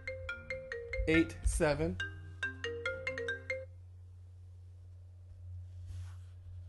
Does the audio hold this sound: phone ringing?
yes